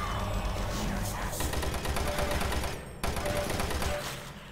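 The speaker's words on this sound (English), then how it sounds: "It's a chain gunner here." A chaingunner enemy in DOOM 3 co-op fires a dense, steady stream of gunfire. The rattling bursts stay loud throughout, with one short break near the end.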